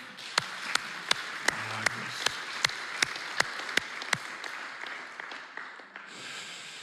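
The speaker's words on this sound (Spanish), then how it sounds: "Vamos a dar un fuerte aplauso al Señor." Steady applause from a church congregation, with sharp distinct claps standing out in a regular beat before fading into a softer rumble.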